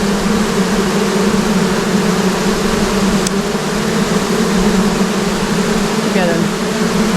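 A honeybee colony on a mountain farm gives off a loud, steady, irritable buzz close at hand, an unbroken droning hum with no pauses and occasional faint sounds over it.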